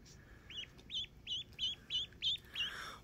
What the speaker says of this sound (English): Oh, a little ducky?